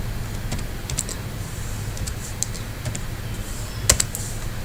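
Quiet, fast keystrokes on a computer keyboard in short irregular bursts, with one sharper cluster of clicks near the end, over a low steady room hum while a recipe name is entered in SCADA recipe-management software.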